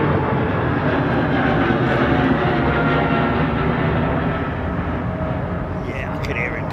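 A jet passes overhead at London Heathrow Airport, a loud sustained broadband roar that fades slightly toward the end, with someone talking over it.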